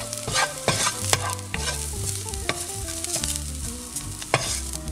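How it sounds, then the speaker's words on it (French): A pan of ground spices, lime zest, powdered cinnamon, salt and pepper is stirred over the heat, a spoon scraping and clinking in a rhythmic pattern over a soft, steady sizzle, with no voices. "Et je mélange le tout."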